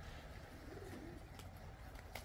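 A flock of white pigeons cooing softly, faint and low beneath steady outdoor background noise, with a few brief higher bird calls scattered through.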